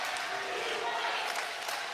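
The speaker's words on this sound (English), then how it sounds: "This crowd's going at Switzer Gymnasium" Basketball crowd roaring at Switzer Gymnasium during a UNF vs West Georgia game, a steady dense wash of cheering and noise filling the gym throughout.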